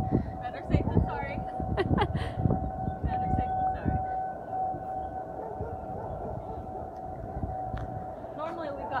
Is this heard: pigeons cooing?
no